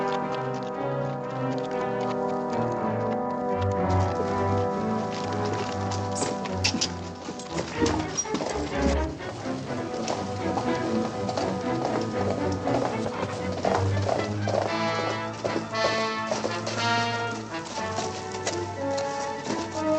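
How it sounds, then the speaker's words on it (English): Hoofbeats of horses clatter steadily under loud orchestral music, a continuous galloping rhythm throughout. "Let's get the horses."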